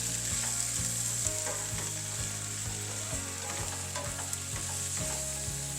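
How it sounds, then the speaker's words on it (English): Mushrooms sauté for a copycat Texas Roadhouse roadkill, a dense continuous sizzle broken by evenly spaced scraping tosses of the pan, close and steady, with no talking. "You want to saute this until the mushrooms are soft, about 3 to 4 minutes"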